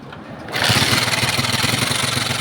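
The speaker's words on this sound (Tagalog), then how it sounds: "Tsaka napakaingay ng makina." Loud, rough engine of a Rusi motorcycle with a very noisy fault, idling quietly at first and then revving up into a steady, pulsing roar heard close up, with no talk over it.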